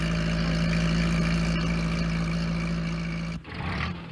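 A postal van's engine hums steadily at close range with a low drone while driving along a road, then cuts away abruptly near the end as the sound shifts.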